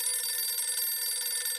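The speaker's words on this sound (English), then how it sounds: "Just can't stand the sound of a phone ringing." A telephone bell ringing continuously in a bright, rapid trill, fairly close and alone with no speech.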